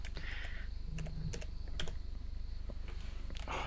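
Rapid typing on a computer keyboard, a close, irregular patter of key clicks with brief pauses, heard alone with no talking.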